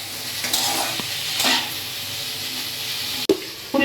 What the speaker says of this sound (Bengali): এরপর আমি ফুলকপিগুলোকে কড়াইয়ের মধ্যে দিয়ে নুন হলুদ দিয়ে ভেজে নেব।